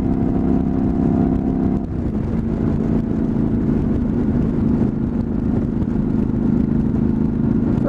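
Honda CTX motorcycle engine on a desert ride near Saguaro National Park, revving with a steady loud drone throughout, a brief dip near two seconds before the throttle picks back up, no talking.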